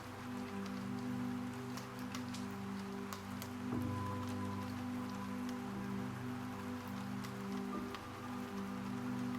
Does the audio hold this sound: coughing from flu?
no